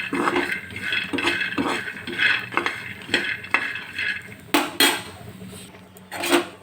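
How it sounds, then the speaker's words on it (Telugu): Peanuts dry-roasting in a pan, a busy run of dry rattling and scraping as the nuts are turned, with sharp metallic clinks of a spoon against the pan at irregular intervals, close and fairly loud, with no talk. "పల్లీలు అయితే ఇలా వేయించుకుంటే సరిపోతుంది."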